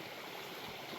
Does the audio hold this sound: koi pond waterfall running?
yes